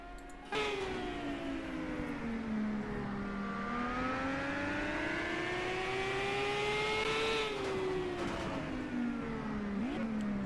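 An IndyCar engine in a racing game at St. Petersburg whines loudly and steadily, pitch sliding down, climbing, then dropping sharply, with uneven shifts from rough running and a suspected engine fault.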